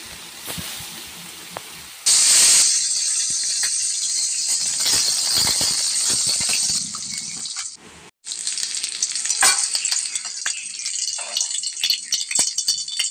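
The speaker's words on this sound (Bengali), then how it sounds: "সর্ষের তেলে মাছটা ভাজবো" Live koi fish fries in mustard oil in a wok. A sudden loud, broad sizzling hiss bursts in after a couple of seconds and roars steadily, briefly drops out, then returns with sputtering crackles.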